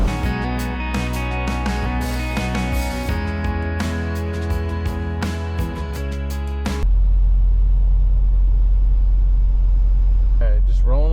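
A semi truck rolls up to a weigh scale on a haul from Logan, Utah, to Modesto, California. The engine rumble is loud and close, then gives way to a deep, steady low drone.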